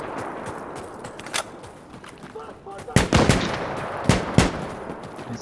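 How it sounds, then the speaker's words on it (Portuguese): Gunfire in the video game Insurgency: Sandstorm, with loud, close automatic bursts and single shots cracking over background battle noise, with players talking over the action. "Stop shooting me!"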